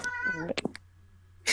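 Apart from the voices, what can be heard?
cat meowing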